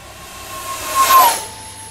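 A twin 40mm EDF X-fly Su-57 RC jet at full throttle gives a steady, loud ducted-fan hiss that swells briefly as it passes, with a thin whine running through it.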